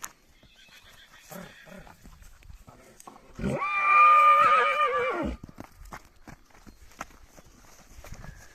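A stallion gives a loud, drawn-out neigh for a couple of seconds, with quieter talk and shuffling footsteps before and after.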